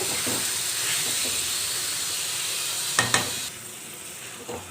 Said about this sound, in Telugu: ఇది హాఫ్ ఫ్రై అయ్యేంత వరకు మనం హైలో పెట్టేసుకొని ఇలాగా దగ్గరుండి కలుపుకుంటూ వేయించేసుకోవాలి